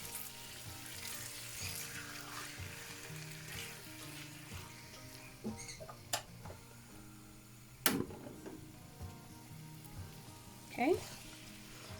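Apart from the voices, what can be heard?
yakisoba sauce sizzling in a hot cast iron pan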